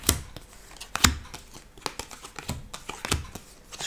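Tarot cards set down on a surface for a February 2021 Gemini reading, a run of short, close papery slaps and crinkles with a few sharper snaps, unevenly spaced and alone.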